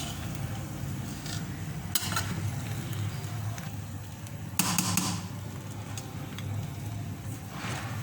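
Raisins are stirred into mutton pulao in a cooking pot, with two sharp scraping bursts of the spoon against the pot over a faint, low background hiss.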